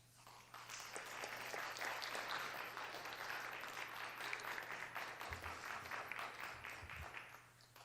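A state senate chamber fills with steady applause from legislators and onlookers, a continuous even patter of many hands held at a constant level for several seconds.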